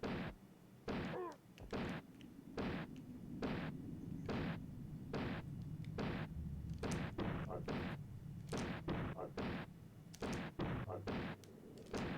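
Gunshots in Indiana Jones' Greatest Adventures on the Super Nintendo, a long series of sharp, evenly repeated retro blasts, about two dozen in twelve seconds, loud over a quiet game background.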